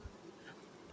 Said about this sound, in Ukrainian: Це, до речі, бджола.